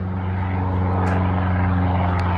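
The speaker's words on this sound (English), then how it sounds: "There's a plane going by." A propeller airplane passes overhead in a snowy, icy Alaskan setting, its steady droning engine hum continuous and fairly loud throughout, with no talking.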